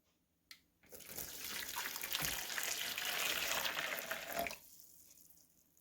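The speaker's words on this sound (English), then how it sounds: "And now I put the water in." Water pours steadily into a mixing bowl of molasses for Red River cereal bread dough, about four seconds, a continuous rushing splash that starts abruptly and cuts off, with no talking.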